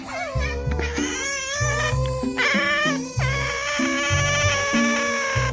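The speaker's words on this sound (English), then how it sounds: "It's otter begging." Otters making begging calls: a high, wavering chorus of overlapping squeals and cat-like mewing cries, loud and continuous, with pitches rising and falling throughout.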